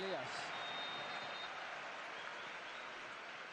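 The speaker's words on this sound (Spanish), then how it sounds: "Aplausos para Guedes" A football stadium crowd applauds new signing Guedes at a Villarreal CF vs RCD Mallorca match, a steady, distant wash of clapping that fills the whole stretch with little change in level.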